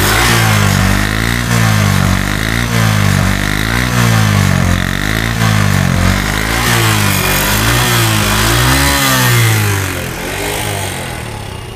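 A second-hand Honda CD 80 motorcycle engine revs close up, rising and falling repeatedly in a steady rhythm over a loud running idle, with no talking.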